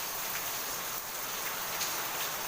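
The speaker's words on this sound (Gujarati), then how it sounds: "વાડી કરતાં ગામમાં બહુ વરસાદ છે" Heavy rain pours over a village, a dense, even hiss of drops that holds steady at moderate loudness with no voices.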